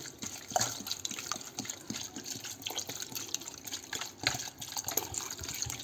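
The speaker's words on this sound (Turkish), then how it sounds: "Daha sonra bir litre su oda sıcaklığında dinlenmiş su arkadaşlar." A litre of room-temperature water goes into a pot over banana peels, a steady, gurgling pour of moderate loudness with small splashes, alone without speech.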